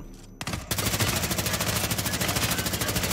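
Sustained automatic gunfire rattles in Hitman 3, a rapid, evenly pulsing stream of loud shots that starts abruptly after a short quiet moment and continues without pause.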